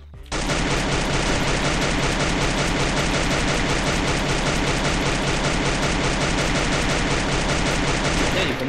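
Relentless rapid gunfire in Free Fire, loud and close, a continuous automatic barrage with no pauses for the entire stretch.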